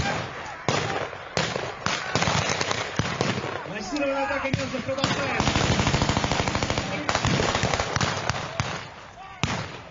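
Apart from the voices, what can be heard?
gunshots and machine gun fire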